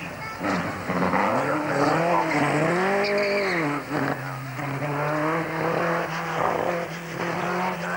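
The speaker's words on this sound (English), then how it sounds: "He's through the chicanes, and it's very fast indeed." A race car at a 1980s hill climb at King Edward Park, New South Wales, powers through the chicanes. Its loud engine holds close, with pitch rising and falling through gear changes and tire squeal, and faint commentary underneath.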